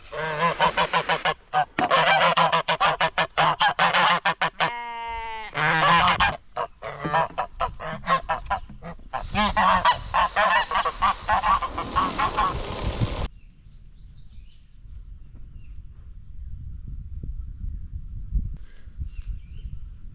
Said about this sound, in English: So hey, Goosey.